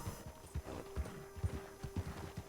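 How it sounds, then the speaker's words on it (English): A horse's hooves clip-clop at a steady walking rhythm in Red Dead Redemption 2, close and fairly loud, with a faint whinny-like tone in the background and no talking. "¿Qué caballo es este?"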